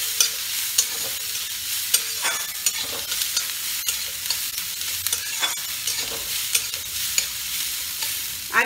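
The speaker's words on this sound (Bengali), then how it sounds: "এটাই আসল মশলাটা কষা" Masala sizzles loudly and steadily in a hot pan while being stirred and fried for a snakehead fish kalia curry, with repeated scraping strokes of the spatula over the continuous frying hiss.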